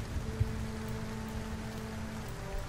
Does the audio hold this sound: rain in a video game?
yes